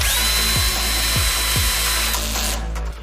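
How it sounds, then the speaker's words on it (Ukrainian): A Bosch GSR 120-LI cordless drill drives a screw with a loud, close motor whine, its pitch rising and falling through several quick pulses before winding down near the end. "Тест на швидкість закручення Bosch перша швидкість. Друга швидкість."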